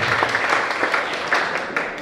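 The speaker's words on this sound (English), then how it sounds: "give a round of applause to Mr. John L.T. Sama, Deputy Commissioner for this year" An audience at a college NSS festival closing function claps in a brief burst of applause, a dense patter of many hands at moderate distance, with a faint voice underneath.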